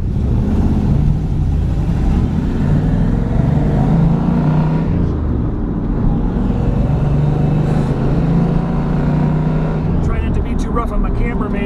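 A green 1970 Plymouth Cuda AAR with a 340 J-code six-barrel V8 drives in Fenton, Michigan. Its engine makes a steady, close, low drone throughout while someone talks over it.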